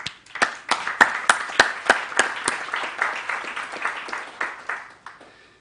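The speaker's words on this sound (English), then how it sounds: "you certainly deserve to give yourselves a round of applause" A conference audience claps in a fairly sparse round of applause, with individual hand claps clearly separable at the start before they thin out and fade.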